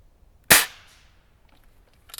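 A single sharp, loud shot from a Springfield Armory M1A air rifle, one crisp crack with a short decaying tail, followed by near silence.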